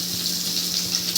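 Slit eggs frying in hot oil for a dhaba-style anda masala give a steady, close sizzle with a faint crackle, continuous and without voices.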